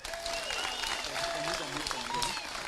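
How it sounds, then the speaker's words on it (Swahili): Audience applause fills a political rally in Magarini, Kenya, a dense continuous clapping at close range that runs the whole short stretch, with a voice speaking over it. "Pigieni makofi."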